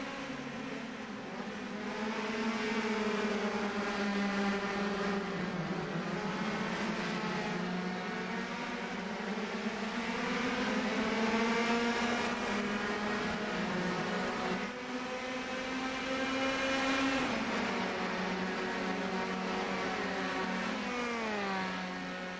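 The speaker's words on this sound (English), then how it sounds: "As now the car is starting to fan out once again, trying to size up a good pass into the chicane" Race cars lap a street circuit with a chicane, their engines droning and rising in pitch as they accelerate past, loud and continuous with no talk.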